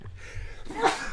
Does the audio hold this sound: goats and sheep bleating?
no